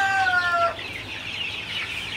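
Chickens in a poultry house during intense heat, with a short clear cluck near the start followed by softer, more distant clucking and chatter against a low background hum.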